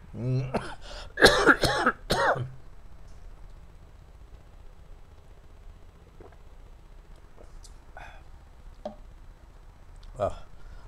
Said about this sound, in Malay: Memang batuk ni ya.